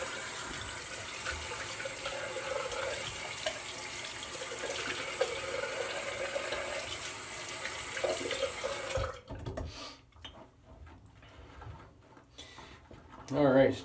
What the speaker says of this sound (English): we'll rinse off and go for number two.